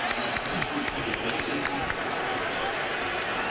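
Crowd reacting at a college football game, Arkansas versus Alabama, a broad roar from a packed stadium that holds steady and loud, with a few sharp claps or bangs.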